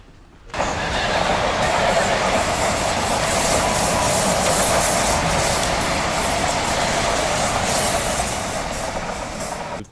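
A train on the railway that runs along the town of Calella, Spain, rumbles past with a sudden onset after half a second, then a loud, steady roar that eases slightly near the end.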